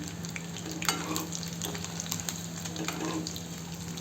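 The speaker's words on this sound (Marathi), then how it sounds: "अंडे तळून झालेले आहे. अशा कलरचे झाले पाहिजे, ब्राऊन कलरचे." Eggs frying in hot oil until brown, giving a steady close sizzle with a low background hum and a few soft clicks of turning, no voices.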